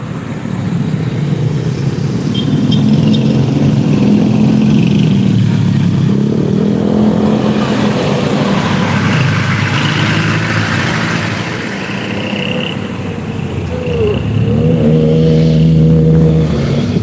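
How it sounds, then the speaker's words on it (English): Heavy traffic on a busy street in the Philippines, with cars and motorcycles passing close by, engines revving and idling in a steady loud roar that lasts throughout, with no voices. "It's just a lot of traffic right there"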